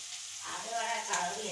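Mussels fry in a pan with a short burst of quiet, hissing sizzle that swells slightly as it goes, with no voices.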